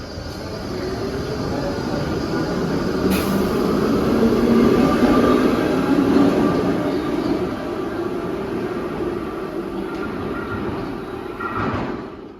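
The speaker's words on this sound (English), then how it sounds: "a Johns Hopkins bound train passes through the station" A Baltimore subway train bound for Johns Hopkins rumbles steadily through a station without stopping, a broad continuous roar swelling in the middle and easing toward the end.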